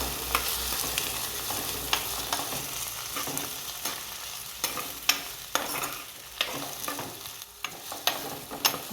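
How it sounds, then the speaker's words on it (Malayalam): Small onions with salt sizzle steadily as they are sautéed in a pan for a Kerala fish curry, with a spoon scraping and tapping the pan at irregular moments, close and continuous. "ഈ ഉള്ളി പെട്ടെന്ന് വഴണ്ട് കിട്ടുന്നതിന് വേണ്ടിയിട്ടാണ് ഉപ്പും കൂടി ചേർത്തിട്ട് നമ്മൾ ഇങ്ങനെ ഇളക്കുന്നത്."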